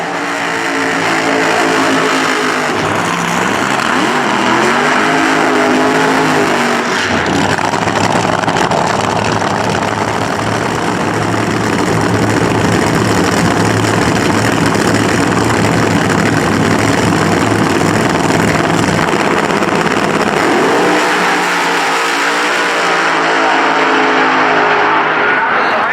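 Funny car drag racing engines roar loud and continuous at Eddyville Raceway Park, a sustained blaring rumble that holds nearly the whole stretch before easing near the end.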